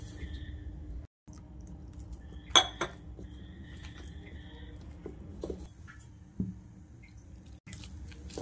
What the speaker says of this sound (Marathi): आपण मिक्स करून घेऊयात आपण